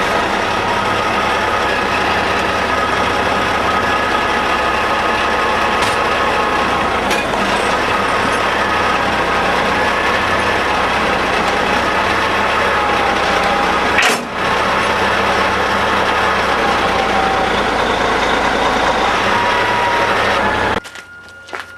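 A semi truck backing its fifth wheel into a trailer kingpin and tugging to test the coupling: a loud, steady diesel idle and rumble throughout, broken by a sharp metallic clunk midway, with a few faint knocks before it cuts off.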